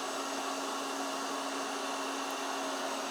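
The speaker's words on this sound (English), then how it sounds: "vacuum up everything that needs to be vacuumed" A Laresar robot vacuum cleaner runs with a steady, even whir and hiss at close range, constant in loudness throughout with no pauses or voices.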